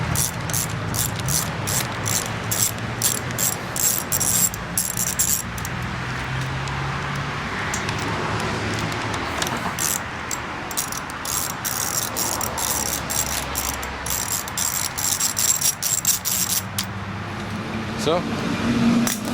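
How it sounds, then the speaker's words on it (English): Rapid ratchet clicks from an 8mm socket wrench loosening the carburetor on a Honda 5hp outboard motor, in repeated close bursts over a steady low background hum. "take your 8mm socket and start unscrewing the carburetor off"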